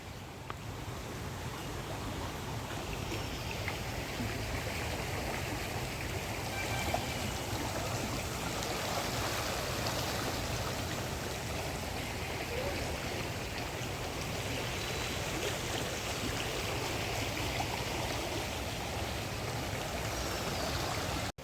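Muddy, red-silted Ganges water flows steadily past a riverbank in Haridwar after rain, a continuous broadband rush with no pauses and no talk.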